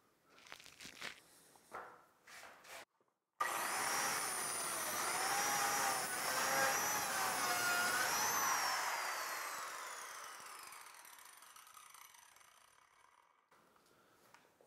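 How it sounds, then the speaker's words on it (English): A biscuit joiner plunge-cuts a dado into wood, a sharp high-pitched whine and cutting roar starting abruptly after a few short bursts, holding steady, then gradually fading out. "you're going to use the biscuit joiner to make a dado in this thing"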